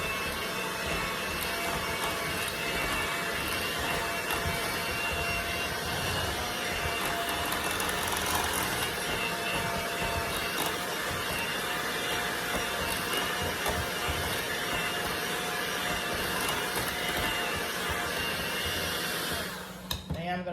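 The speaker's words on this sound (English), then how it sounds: "so I got my mixer here. So I am going to go ahead and start whipping this up" An electric hand mixer whips sweet potato pie filling in a continuous loud whir that runs steadily for about twenty seconds before cutting off at the end.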